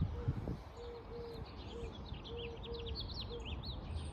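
A dove coos in a spring garden, its low soft calls repeating steadily in the background while smaller birds chirp and twitter higher up, all fairly faint and distant.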